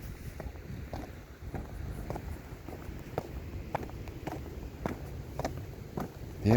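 A gusty outdoor breeze beside a road buffets the microphone in a steady low rumble, broken by scattered light ticks and knocks, with no one speaking.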